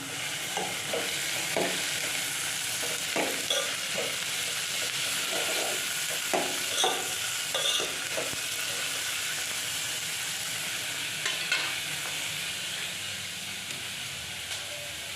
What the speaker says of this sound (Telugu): ఆనియన్స్ని బాగా ఫ్రై చేయాలి.